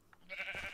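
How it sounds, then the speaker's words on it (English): A sheep bleats once, a short wavering cry rising out of quiet farm-game ambience, fairly faint and heard alone without talk. "I hear a sheep."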